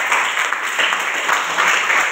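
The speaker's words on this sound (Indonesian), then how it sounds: "Baik, tepuk tangan." Brisk, continuous applause from a classroom audience after a group presentation, close and fairly loud throughout.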